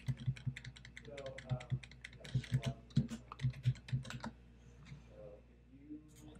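A card number is entered on a computer keyboard in a payment screen, with quick clusters of close key clicks interspersed with a person talking.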